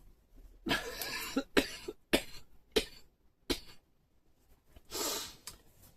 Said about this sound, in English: I've now got a cough which I can't get rid of.